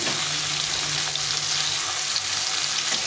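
Raikhor river fish frying in an oiled pan, a steady close sizzle with a watery crackle that runs unbroken throughout, with no voices.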